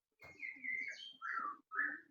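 A caged songbird gives a few quiet chirping phrases, three short bursts of whistled notes with brief gaps between them, faint and close, with no voices.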